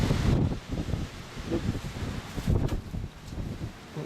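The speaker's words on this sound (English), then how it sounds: "Really freaking windy out there at the moment." Strong wind rushes and buffets steadily outdoors, a broad roaring noise with gusty swells, no voices present.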